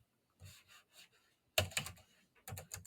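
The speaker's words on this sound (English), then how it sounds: "I'm going to try and do that again by actually typing in the right box." Short bursts of typing on a computer keyboard while entering text in a SharePoint box, quick clustered clicks in two or three groups, close and fairly quiet, no voice.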